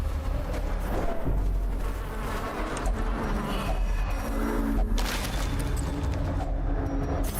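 A thronging insect hive in the Darkest Dungeon game drones with a dense, continuous buzzing, layered with game ambience, without a break.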